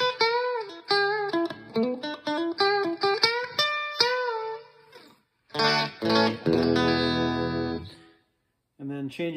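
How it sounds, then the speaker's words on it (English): A distorted electric guitar, a T-style guitar through a tube amp with gain at about 1 o'clock, plays a run of quick single-note lines, then thick, crunchy sustained chords, with short gaps between phrases. "changing to some distortion. I got gain at about 1 o'clock on this amp"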